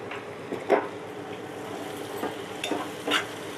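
A spoon stirs a coconut and chana dal curry with turmeric in a pan, scraping in a few separate strokes over a steady low sizzle, close and moderately loud, with no voices.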